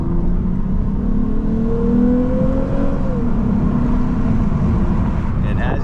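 A Lexus RC 350 F Sport accelerates with a loud, steady engine drone and rising pitch, heard from inside the cabin while someone talks over it.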